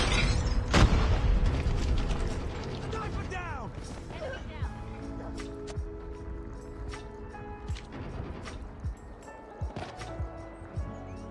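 A Semtex grenade blasts in a Call of Duty Mobile search-and-destroy match, one sharp booming hit followed by ringing debris and scattered mechanical clatter, with voices over the action.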